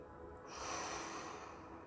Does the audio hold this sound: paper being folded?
no